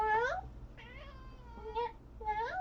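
A house cat meows four times in a short, rising and falling series, fairly close and clear against a quiet room.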